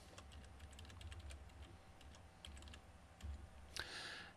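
A password typed on a computer keyboard, soft scattered key clicks at an uneven pace, fairly quiet, ending with a single sharper tap.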